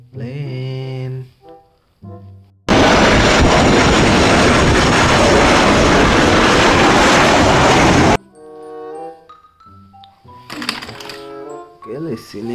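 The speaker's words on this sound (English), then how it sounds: "Plane." A toy airplane gives a loud, dense electronic engine roar lasting about five seconds, with talking before and after it.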